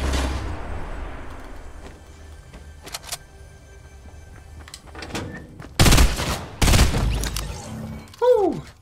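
Burst rifle and machine gun fire ring out in a Fortnite match, with quiet scattered shots early on, then two loud, dense bursts of rapid gunfire in the second half and a final sharp report, with no voices heard.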